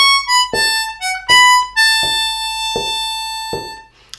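Blues harmonica plays a short lick with bent, inflected blow notes in a clear, close solo phrase and no talking.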